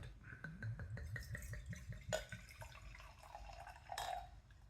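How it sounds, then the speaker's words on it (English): Crone's Old Norfolk cider is poured from a bottle into a glass, giving a quick run of close, soft glugs and splashes that fade into quieter trickling and a final small splash. "Let's pour it"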